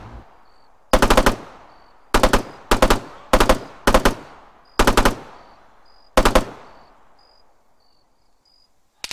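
Machine gun fire in ArmA 3 comes as seven short, loud bursts of rapid shots at irregular intervals, each trailing a reverberant tail, over a faint high-pitched insect-like chirp.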